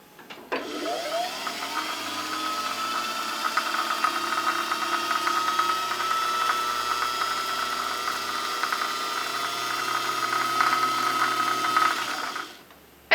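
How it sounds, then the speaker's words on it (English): Singer 500A Rocketeer sewing machine winding a bobbin with the needle clutch disengaged: a steady, close motor whir and rattle that spins up, holds evenly for about twelve seconds, then stops. "And that's how you wind a bobbin."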